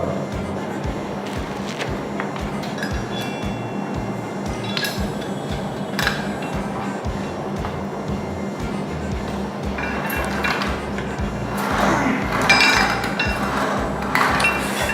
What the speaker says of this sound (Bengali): ল্যাট পুল ডাউনের জন্য বেসিক্যালি এরকম একটা মেশিন ইউজ করা হয়